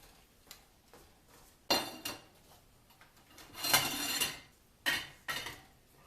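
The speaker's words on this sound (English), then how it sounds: "turn off that heat and stir in that parm" A utensil scrapes and clinks against a pan in several separate strokes with pauses between them as parmesan is stirred into cooked spaghetti squash, close and fairly loud with no talk.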